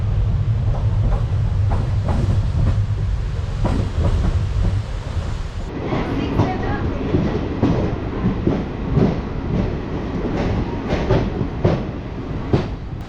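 Durg–Ambikapur Express running on the rails from Durg, a steady loud rumble of wheels with rhythmic clickety-clack joints passing underneath, continuous and close throughout with no talk.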